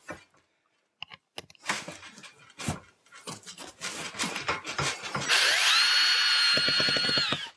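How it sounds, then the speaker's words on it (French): A power drill drives a screw through a roof insulation panel, starting with a few scattered wooden knocks and scrapes, then rising into a loud sustained whine and closing with a rapid burst of clicks. "Et là, il suffit de visser."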